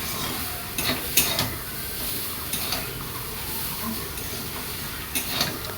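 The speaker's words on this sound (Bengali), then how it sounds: "তো দেখো এটা ভালো করে মিশিয়ে নিচ্ছি।" Food being stirred and mixed in a pan in a home kitchen, with soft scraping, light utensil clicks against the pan and a faint sizzle, steady and fairly quiet throughout.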